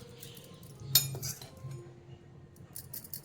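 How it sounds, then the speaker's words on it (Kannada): A spoon clinks against a bowl while a Manchurian vegetable mixture is combined with maida and corn starch, one bright metallic knock followed by soft scraping and faint later clinks, close and quiet. "ಜಾಸ್ತಿ 2 ಸ್ಪೂನ್ ಮೈದಾ, 1 ಸ್ಪೂನ್ ಕಾರ್ನ್ ಸ್ಟಾರ್ಚ್ ಹಾಕಿ ಮತ್ತೆ ನಾನು ನೀಟಾಗಿ ಕಲಿಸ್ಕೊಂಡ್ಬಿಡ್ತೀನಿ ಇದನ್ನು."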